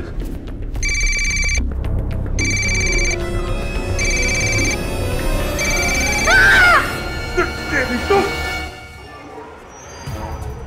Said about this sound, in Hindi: मोबाइल लगाइए।